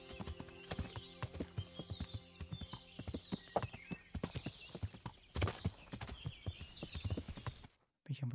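Rapid rhythmic clip-clop of horse hooves in the video game Kingdom Come: Deliverance, steady and close, with a brief whinny and faint talk underneath before a sudden cutoff near the end.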